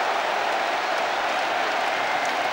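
French rugby crowd roaring after a try at the 1999 Rugby World Cup match against New Zealand, a dense, loud, continuous wash of cheering with no gaps.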